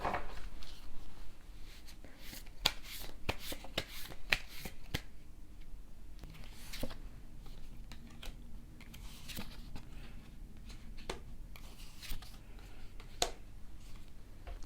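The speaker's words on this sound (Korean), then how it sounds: "한번 두 분 미래에 관해서 카드를 뽑아볼게요" Tarot cards being shuffled and drawn: soft riffling, flicks and sharp snapping taps of card edges recurring throughout, quiet and close with no talking.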